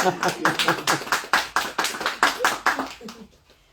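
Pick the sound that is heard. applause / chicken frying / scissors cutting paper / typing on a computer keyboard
applause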